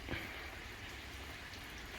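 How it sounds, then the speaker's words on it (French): Rain falling outdoors at a car repair job on a Golf 4 / Audi Bora TDI, a steady soft hiss of drops pattering on surfaces, even and unbroken with no talking. "il commence à pleuvoir"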